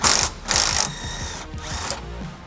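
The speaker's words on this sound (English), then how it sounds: "This is also a 15 wrench and a 15 socket." A ratchet with a 15 mm socket loosens shock hardware on a Polaris Ranger XP1000 utility vehicle, giving bursts of rapid metallic clicking that start and stop several times, close and loud.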